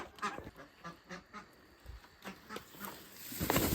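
Muscovy and Indian Runner ducks quack in short repeated bursts close by, scattered and uneven, and the sound grows busier and louder near the end.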